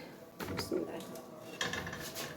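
A pot of matar aloo pulao rice is lifted off a kitchen stove, giving a few quiet clanks and scrapes of metal cookware, brief and close, over faint room noise.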